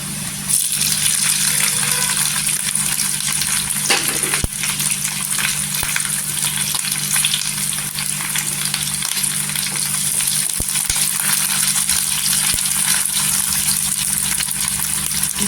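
Green chillies fry in hot oil with garlic already turned golden, a steady, loud sizzle that holds for the whole stretch with a few brief clatters of a stirring utensil.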